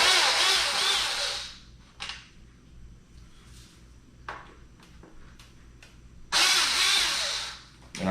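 Power screwdriver taking apart a JDM Integra headlight, short loud whirring bursts at the start and near the end with quiet handling clicks and taps between them.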